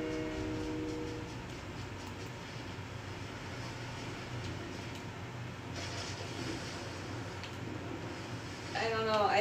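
A train in Fortnite rumbles past as a broad, steady game roar that holds for several seconds, growing slightly louder and busier near the end.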